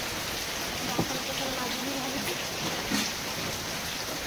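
Heavy rain pours down in a steady, dense hiss, with faint voices barely audible underneath.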